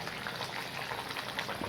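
Fish curry with potatoes bubbling in a pot, a steady soft seething and crackle of simmering liquid, fairly faint and close, with no voices over it.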